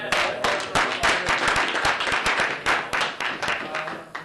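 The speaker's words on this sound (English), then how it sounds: "Another round of applause" Audience clapping at an awards event, a dense run of sharp claps and applause lasting a few seconds at moderate loudness, with a few voices mixed in.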